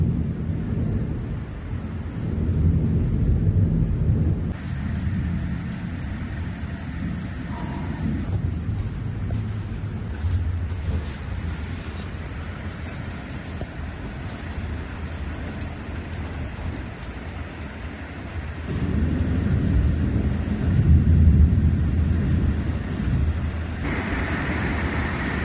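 Tropical thunderstorm near Airlie Beach, Australia, with steady heavy rain and wind and deep thunder rumbles rising around the start and again louder toward the end, no voices.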